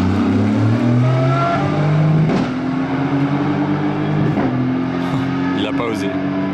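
An Aston Martin Valkyrie race car rolls through the pit lane of a racing circuit, its engine a steady droning hum that climbs gradually in pitch as it passes nearby, with a voice talking over it throughout.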